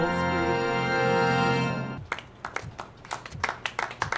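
In the video game RoboCop: Rogue City, a sustained musical chord fades out, then a handful of hand claps follow in a slow clap, unevenly spaced and gradually quickening.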